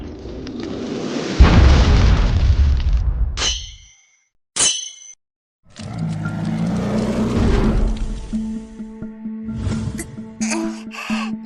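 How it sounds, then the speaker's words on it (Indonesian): A huge sky-fire explosion attack effect from an anime fantasy battle, with loud booming blasts, whooshing bursts and crackling impacts, then a rumbling, ringing aftermath with sharp pops. "Ledakan api langit."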